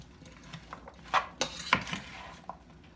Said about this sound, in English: Go ahead and mix the onions